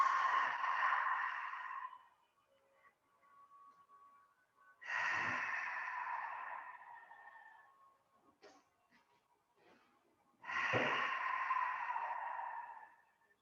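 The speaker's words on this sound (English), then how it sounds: "Open your mouth on your exhales." Three long, breathy open-mouth exhales during a qigong session, each lasting about two seconds and spaced evenly apart, close and fairly soft with quiet pauses between.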